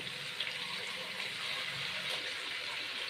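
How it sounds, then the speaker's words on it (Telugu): Water is poured gently from a vessel into a cooking pot of goat head and trotters curry with ginger paste, producing a soft, steady trickle at low volume for a few seconds. "కొద్దిగా వాటర్ పోసుకొని పోస్తున్నాను దీంట్లో"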